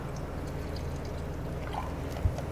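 A quarter cup of water pours into a cooking pan of vegetables, giving a steady low trickle and sizzle throughout with a small bump near the end and no talking.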